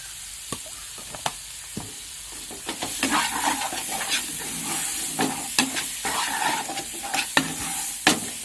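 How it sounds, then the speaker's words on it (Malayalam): Tomato masala sautés in coconut oil in a pan, a steady sizzle broken by repeated scraping stirs of a spoon against the pan, close and fairly loud with no talking. "നല്ലപോലെ സോട്ട് ചെയ്യണം, എന്നാലും തക്കാളിയുടെ പച്ചപ്പൊക്കെ ഒന്ന് മാറത്തുള്ളൂ"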